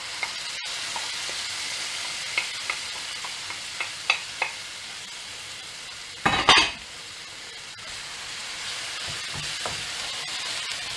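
Slow roasted tomato going into a pot of softened onions, a steady sizzle with light clinks and stirring taps, and one brief loud splash-and-hiss burst midway.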